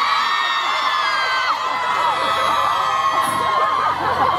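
Concert audience at a K-pop show screaming and cheering continuously, a loud dense wall of high shrieks and yells from a large crowd filling the whole moment.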